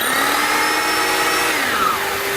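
A drill runs with a DeWALT DWV012 10-gallon dust extractor drawing through a hollow drill bit, giving a loud, steady, continuous motor whine and suction roar that holds throughout with a slight pitch shift near the end, no talking.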